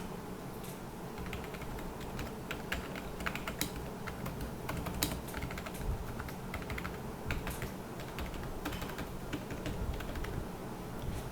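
Rapid, soft typing on a Rapoo X1800S wireless keyboard, steady clicks and taps close by with occasional slightly louder keystrokes, no voices.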